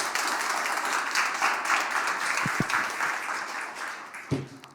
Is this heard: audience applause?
yes